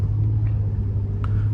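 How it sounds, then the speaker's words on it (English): A Renault Vel Satis 3.5 V6 engine drones steadily while driving, a loud low rumble with road noise and a brief faint click, no talk. "Steering is beautiful, and you also hear the sound of this engine."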